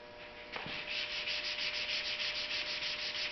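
Hand sanding a Jeep Commander fender flare with 220 grit paper, a close, rhythmic scratchy rubbing of quick back-and-forth strokes, alone with no talking.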